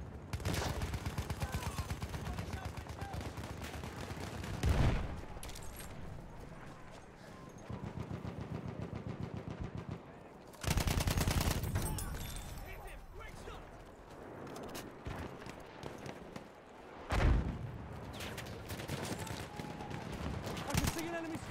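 A BAR automatic rifle fires in Battlefield 1 in long, rapid, loud bursts that rattle almost continuously, punctuated by heavier blasts, with occasional in-game voices in the mix.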